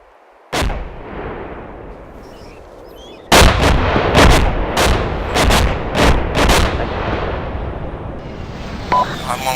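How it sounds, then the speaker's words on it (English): Folding fin aerial rockets strike in the video game Arma 2: one loud blast, then after a pause a rapid string of about seven heavy booms with rumbling tails, close and dominant, with no talk. "Folding fin aerial rocket."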